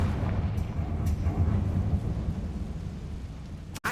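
A Confringo fire-blast spell booms in a video game, a deep rumbling explosion that rolls on and fades slowly, ending with a sharp cut. No one speaks.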